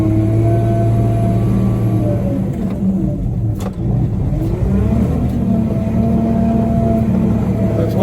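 An old all-terrain truck's engine drones steadily under load while driving over rough ground, its pitch rising and falling with the throttle, close and continuous throughout.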